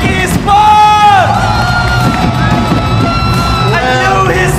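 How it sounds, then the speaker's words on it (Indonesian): A large esports arena crowd cheers, whoops and yells loudly and continuously for Onic Esports winning the MPL Indonesia Season 3 grand final, a dense roar with shouting voices rising above it throughout. "Berikan tepuk tangan untuk Onyx Esports."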